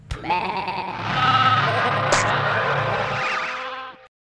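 Sheep bleating loudly and close for about four seconds, a continuous wavering cry with no talk over it.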